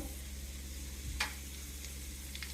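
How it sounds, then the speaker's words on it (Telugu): Chana dal frying in hot oil in a home kitchen pan, a soft steady sizzle throughout with a faint stir or tap partway through, quiet and close. "శనగపప్పు కొంచెం వేగినాక"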